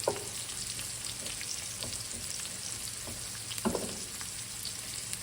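Potatoes sauté in a pan beside a steak au poivre, giving a steady moderate sizzle with a few sharper clatters and scrapes as they are flipped, with no voices.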